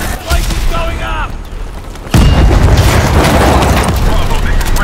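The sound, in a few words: reactor explosion in video game Call of Duty: Advanced Warfare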